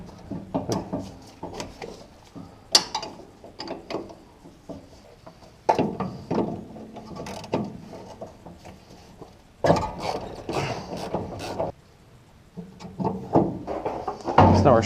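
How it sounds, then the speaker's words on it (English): A ratchet wrench clicks in quick bursts while removing a nut from the front end of a 1968 Mercury Cougar, with short pauses and occasional metallic knocks between runs, close and fairly quiet. "So I'm taking out this nut right here."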